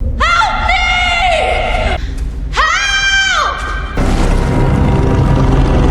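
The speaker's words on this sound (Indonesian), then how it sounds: "teriakannya itu membangunkan si naga" A woman screams in a fantasy film scene where her cries wake a dragon: two long, loud, wavering shrieks, then a heavy rumbling roar that fills the rest of the scene.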